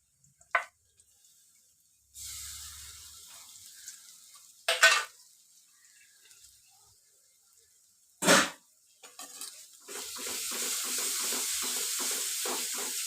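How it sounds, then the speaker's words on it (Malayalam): Masala spice paste being stirred and fried in a pan for kadala (black chickpea) curry, with intermittent scraping stirs and a steady sizzle that grows louder and denser toward the end. "നല്ലവണ്ണം പച്ചമണം പൊടികളുടെ മാറുന്നത് വരെ ഇളക്കിക്കൊണ്ടിരിക്കും"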